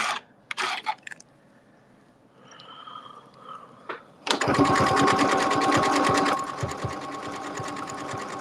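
A sewing machine stitches fabric for a Valentine's Day quilting project on a Sew Steady mat, starting after a few soft handling clicks and then running in a loud, steady, fast mechanical whir close by for several seconds.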